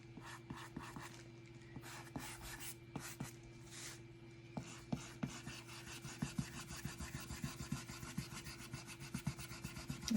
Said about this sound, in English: I'm just rubbing that French gray blue onto that background.